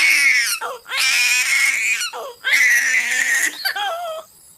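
A baby girl cries in a horror story scene with loud, sustained wails broken by brief sobbing gasps, close and continuous for most of the stretch before trailing off.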